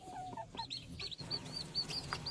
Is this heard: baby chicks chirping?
yes